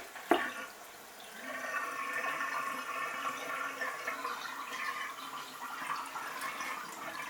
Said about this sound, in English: So I'm just going to let this water out.